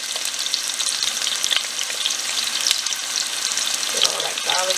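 Garlic and onion sizzle steadily in a pan during keto dinner prep, a dense continuous crackle with occasional clinks of a utensil stirring, close and fairly loud throughout.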